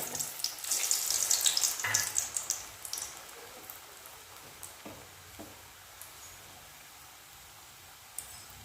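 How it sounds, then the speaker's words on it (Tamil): Banana flower kola balls fry in hot oil over a medium flame. The sizzle is bright and crackling at first, then fades to a quiet bubbling with a few soft pops. "இப்போ வந்து எண்ணெயில் பொரித்து எடுத்துடலாம். எண்ணெய் வந்து சூடாயிடுச்சு."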